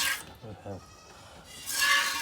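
Goats bleating on a farm, two short wavering bleats close by early on, followed by a burst of broadband noise.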